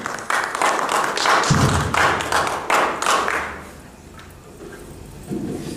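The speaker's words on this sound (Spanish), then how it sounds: "recibámoslo con fuertes y calurosos aplausos" An audience at a conference applauds warmly to welcome a speaker. The clapping is loud and continuous at first, then fades to scattered claps and low room murmur.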